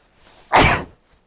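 A single sharp sneeze bursts out close to the microphone, brief and loud against near silence.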